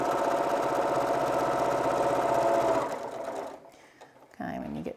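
A sewing machine runs steadily for nearly three seconds, stitching a seam back and forth over elastic, then stops as the fabric is lifted and pivoted, followed by a brief short burst of stitching near the end.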